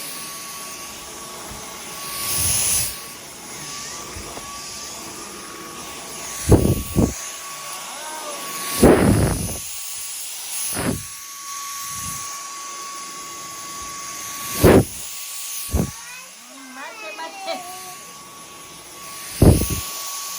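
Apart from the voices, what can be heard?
new Dyson vacuum cleaner running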